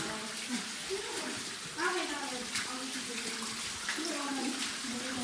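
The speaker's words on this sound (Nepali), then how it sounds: "यो चाहिँ दामी चिसो पानी आइरहेको छ है यहाँ चाहिँ" Cold water running at Panchashree Temple in Sakhu, a steady close rush and splash of flowing water that continues throughout, with people talking over it.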